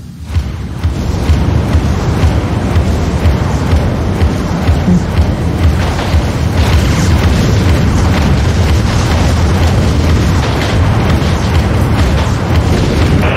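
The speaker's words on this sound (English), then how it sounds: "Vulture missiles have a clean shot." Vulture missiles in the Dreadnought space-combat game strike in a long, continuous barrage of heavy booming explosions, loud and rumbling for over ten seconds without a break.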